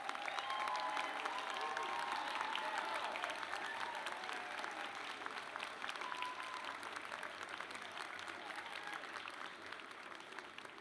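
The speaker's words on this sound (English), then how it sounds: "please rise so we may applaud all of your achievements" A large audience at a Bowie State University Founders' Day celebration applauds students in a reverberant hall, producing a sustained, fairly distant wash of clapping that slowly fades. Faint crowd voices mix in.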